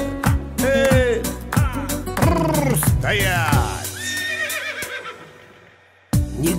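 Several loud, close horse neighs and whinnies follow one another in quick succession, trailing off into quieter snorting before a final sharp burst.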